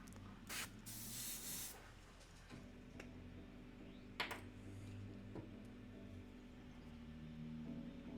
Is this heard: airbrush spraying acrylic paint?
yes